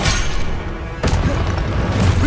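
A Confringo blasting spell going off in the Hogwarts Legacy video game: a short, loud booming explosion with a second crashing burst about a second later over game noise.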